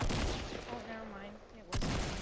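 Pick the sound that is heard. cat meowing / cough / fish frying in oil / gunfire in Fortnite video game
gunfire in Fortnite video game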